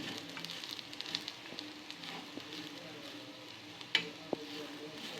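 Grated coconut fries in ghee and is stirred, giving a soft continuous sizzle with scattered light scrapes and a couple of sharper clicks of a utensil against the pan.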